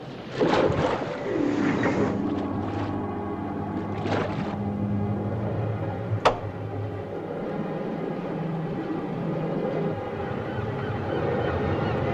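A boat engine idling slow in a radio drama, a low steady throbbing drone that runs throughout, with a brief higher blast partway through and a soft sharp click.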